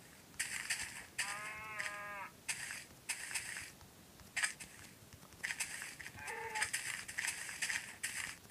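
Cows mooing in the video game Grasshopper, two or three short, moderately close low calls amid rhythmic crunching footsteps and other game noises, with no speech.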